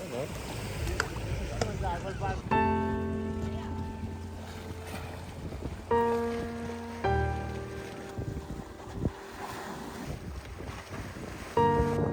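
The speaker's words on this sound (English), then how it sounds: "walk around the island, take a few photos, and listen to the sound of the water" Sea water washes around a small island near Ibiza, with wind buffeting the microphone and intermittent tonal sounds layered over the continuous wash of water.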